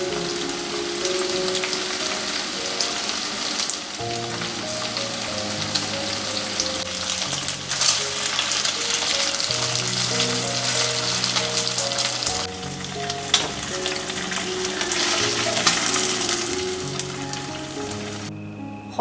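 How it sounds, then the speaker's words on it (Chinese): Cubed beef frying over low heat in garlic oil, with a steady crackling sizzle running throughout and soft background music. "同样还是小火煎"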